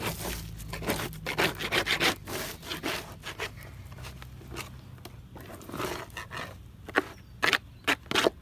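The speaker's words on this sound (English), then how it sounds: "the paint scraper's on a bit of an angle. I don't want to remove everything, I just want to remove the majority of the old wax." A paint scraper scraping old wax off plastic beehive foundation: repeated rough rasping strokes in uneven bursts, close and fairly loud, with some sharper isolated scrapes toward the end.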